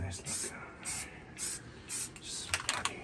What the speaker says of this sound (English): just gonna spray light